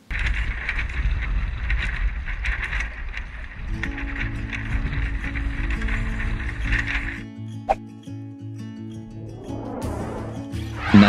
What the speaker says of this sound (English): a flapping sail in nautical terms is called a luffing sail